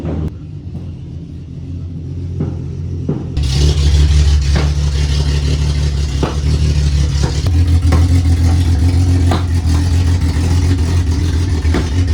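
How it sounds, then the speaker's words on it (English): A Honda Civic fitted with an open-header exhaust fires up and revs hard, its deep rumbling roar loud and nearby, holding a raw, throbbing idle between blips with no talking. "this car is so loud, bro. It's not even straight pipe, it's like open header."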